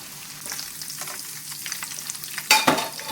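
Ingredients frying in oil over a high flame during chicken biryani preparation, a continuous close sizzle with light stirring, swelling to a louder crackling burst near the end, without talk.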